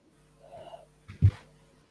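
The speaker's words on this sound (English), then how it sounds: "Did you just sneeze?" A single abrupt sneeze bursts out after some soft breathy sounds, close and fairly loud, then quiet.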